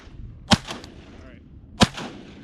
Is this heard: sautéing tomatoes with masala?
no